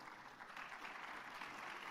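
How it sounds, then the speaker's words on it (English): At the closing ceremony of the 6th World Congress on Agroforestry, an audience gives a speaker a round of applause, heard as a faint, distant, steady wash of clapping with no talk. "Ladies and gentlemen, a round of applause for Ms. Anisha Nalinda from One Acre Fund."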